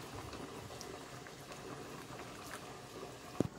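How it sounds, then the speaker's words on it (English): A pot of okra boils on a stovetop, giving a steady low bubbling and soft liquid patter throughout, with one sharp clink near the end. "So over here I have a pot with some okro inside, boiling."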